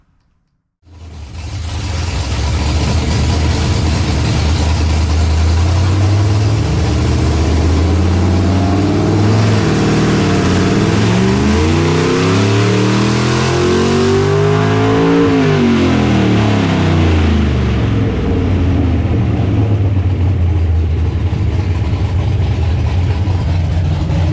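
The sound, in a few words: nitrous 339 stroker small-block Chevy engine revving on hub dyno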